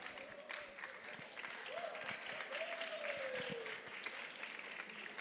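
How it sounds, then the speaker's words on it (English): An audience at a food business summit award presentation in Nigeria claps through the whole stretch at moderate distance. Sustained applause is overlaid by a wavering tonal voice or cheer rising above the crowd. "Please let's put our hands together for him. A rousing applause for Mr. Razak Oke."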